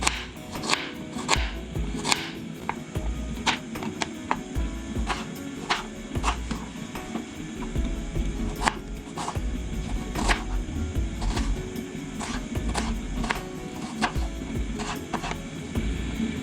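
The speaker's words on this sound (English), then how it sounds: "So we are gonna start by cutting our onions. Make sure you cut them very, very, very small" Onions being finely chopped with a knife for Kenyan kachumbari, a steady run of sharp, evenly spaced board taps over a low background hum, close and moderately loud with no talking.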